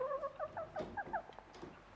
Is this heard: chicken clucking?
yes